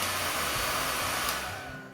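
A hair dryer on its lowest heat setting blows a steady, loud, airy whoosh close to the mic, then its rush fades a little just before the end.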